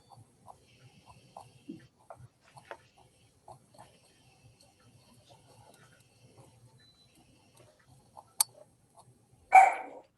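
A dog growls and barks outdoors at the sight of a squirrel: short, soft, scattered sounds at moderate distance, ending in one louder, sharper bark, with no talking.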